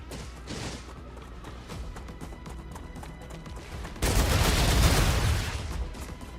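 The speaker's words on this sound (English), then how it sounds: "whatever that thing is, he's shooting from far." Enemy gunfire in the sci-fi game StarRupture comes from far off at first as steady, muffled shots, then a dense, louder volley of rapid fire erupts midway and holds to the end.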